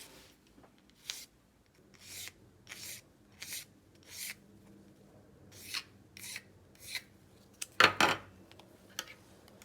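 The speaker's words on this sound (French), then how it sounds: "je vais chercher maintenant à continuer à limer en essayant de garder la forme par rapport à mon tracé" Hand filing on a flexible gauge being shaped to fit an eyeglass frame: a steady series of separate rasping strokes, about one every second, close and moderately loud, with a sharper scrape near the end and no talk.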